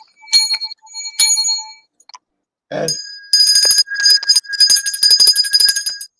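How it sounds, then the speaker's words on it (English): Small bells are struck seven times for luck, each ring bright and metallic. The first strikes are spaced apart with decaying tones, then the later rings come quickly, overlapping and shimmering, close to the listener. "let me give 7 lucky bells to keep the evil spirits away"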